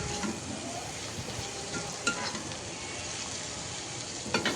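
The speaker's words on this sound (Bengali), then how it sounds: "এটাকে এখন কিছুক্ষণ ভেজে নিব" Chopped onion and garlic sizzle steadily in hot oil, a dense continuous frying hiss with a few sharp clicks of a utensil against the pan, close and fairly loud throughout.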